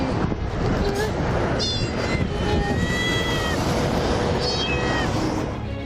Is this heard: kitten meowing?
yes